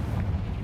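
A Confringo fire spell blasts in a Harry Potter video game, a short, deep, rumbling burst that fills the moment with low boom and no voices.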